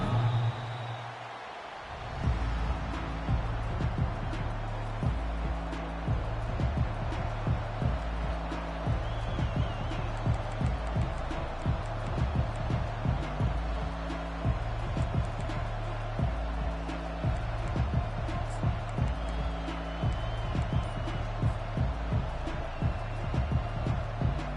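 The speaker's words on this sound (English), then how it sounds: "this crowd is fired up. Listen to this noise here." A fired-up home crowd roars steadily in an on-campus college football stadium during a College Football Playoff game. The dense, sustained noise carries a repeating low, rhythmic thump throughout, like drums or a band pounding beneath the cheering.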